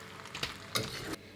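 Vermicelli sizzles in a frying pan, with a soft crackle and several short scraping stirs in close succession.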